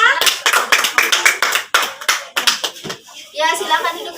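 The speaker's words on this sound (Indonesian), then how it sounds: "Berikan tepuk tangan untuk Alia." Applause from a classroom of pupils for a classmate, a quick run of sharp, close claps that thins out over about three seconds, followed by children's voices.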